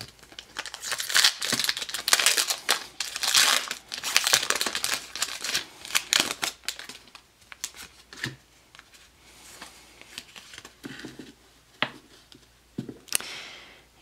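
A Pokémon XY trading card booster pack being torn open, with loud crinkling foil and tearing wrapper close up for several seconds, then quieter card shuffling and rustling.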